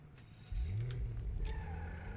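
A Honda NSX sports car accelerates in the video game GTA V, its engine note rising and revving steadily after a quiet start, close and continuous with no talking.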